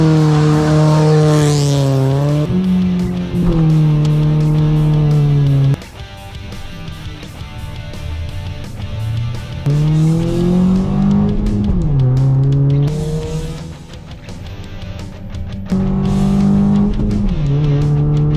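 A Mazda 3 and a Nissan Tiida drag race, engines loud and close, revving hard through repeated rising gear pulls with brief drops between shifts, no talk over them.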